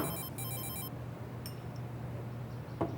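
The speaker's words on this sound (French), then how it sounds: "le téléphone" A telephone rings with a brief electronic trill near the start, faint against a steady low household hum, followed by a couple of small clicks.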